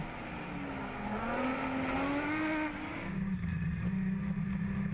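Rallycross car engines, including Citroën DS3s, roar steadily at a French championship race in Dreux, a high revving tone rising and shifting pitch as cars accelerate, loud and close with no talking.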